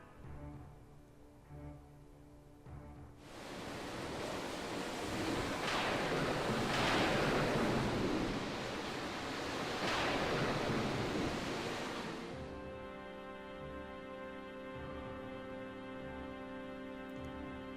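Raging sea waves in a Final Fantasy video game, a loud broad roar of surf and wind that swells in after a quiet start, surges and crests for about nine seconds, then cuts off under a sustained musical tone.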